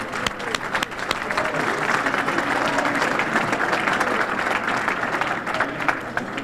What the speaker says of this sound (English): let's give them a little applause for it